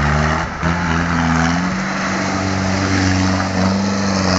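A Troller off-road vehicle's engine drones loud and close while pulling a stuck Toyota, a steady strained tone that dips briefly and then holds.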